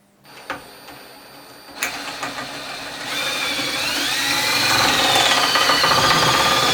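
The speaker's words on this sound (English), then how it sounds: "you can speed the drill bit up and it'll actually cut through the rubber and the metal of the bush" A drill bit bores through the rubber and metal of a trailing arm bush on an Alfa Romeo 105 Series, opening with a few sharp knocks before settling into a loud, steady grinding whine that builds toward the end.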